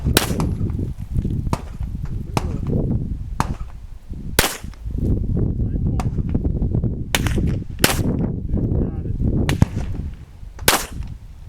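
Live-fire gunshots during a beginner shooting lesson at a range, a series of loud, sharp single reports at uneven intervals, heard close over a steady background rumble.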